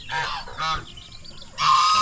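A goose on a farm honks loudly and nearby in three harsh, nasal blasts, the last one longer and sustained, with no talking.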